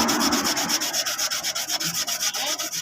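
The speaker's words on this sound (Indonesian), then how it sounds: "Nah, kita gosoi saja seperti ini sampai halus." Steady, rhythmic rubbing of sandpaper over a Honda Vario motorcycle body panel, smoothing it by hand at a roadside workshop, with close, continuous strokes and no talking.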